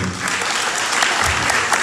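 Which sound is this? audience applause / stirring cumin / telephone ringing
audience applause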